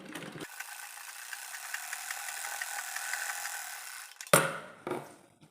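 A domestic sewing machine runs a straight seam along the very edge of a baby dress (jhabla) with an armhole strip, whirring steadily for about four seconds before stopping with a couple of short mechanical clunks.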